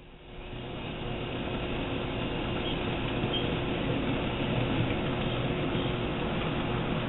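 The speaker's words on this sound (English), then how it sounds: "our train will be coming around behind the downtown buildings and headed under the underpass" A small N scale model train rumbles steadily along its track, a continuous close whirring and clatter that holds even throughout, with no talking.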